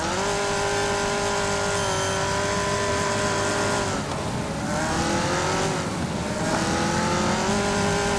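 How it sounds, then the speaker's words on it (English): Knight Rider car racing in the video game Wreckfest, its engine droning loud and steady as it accelerates, with rising revs and two brief dips like gear shifts. "Got the Knight Rider car."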